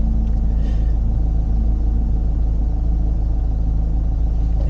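Car engine running steadily in first gear during a driving lesson, a loud, continuous low rumble from inside the cabin with little change in pitch.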